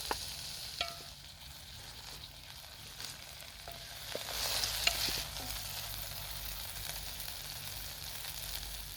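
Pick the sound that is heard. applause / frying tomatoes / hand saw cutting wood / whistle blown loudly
frying tomatoes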